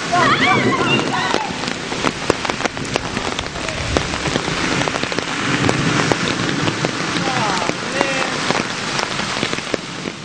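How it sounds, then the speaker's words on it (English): Heavy rain pours down at night, a dense steady patter of drops hitting surfaces nearby with occasional louder splashes, while people talk intermittently over it. "It's pouring down rain."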